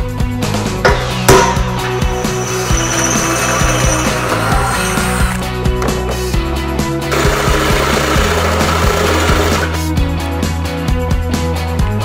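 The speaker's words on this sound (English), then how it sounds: "So I'm gonna drill both sides" Loud, steady mechanical grinding and whirring of a drill boring through metal, running continuously, with harsh metallic rattling throughout and no talking.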